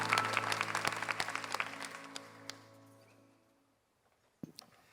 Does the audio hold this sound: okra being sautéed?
no